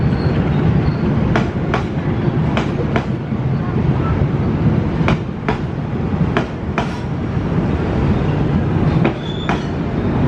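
A long passenger train of 13 cars rolls past at Jatinegara station in a steady, loud rumble, with a regular run of sharp wheel clicks over rail joints and faint squeals throughout.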